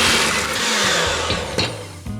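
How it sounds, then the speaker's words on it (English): Electric mixer beating softened unsalted butter on medium-low speed, a loud steady whirring drone with slight wobbles and brief knocks against the bowl. "Let's mix this on medium-low speed for about a minute"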